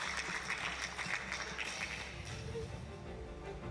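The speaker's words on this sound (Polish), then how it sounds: "Thank you for your applause." An audience at a local government congress signing ceremony claps steadily in a dense, moderately loud patter that eases slightly toward the end, with a voice faintly audible in the background.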